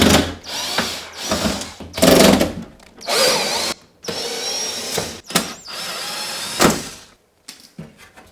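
A power drill backs the screws out of a tumble dryer's side panel, with repeated short whirring bursts and ratcheting clicks up close, separated by brief pauses and metallic handling noises.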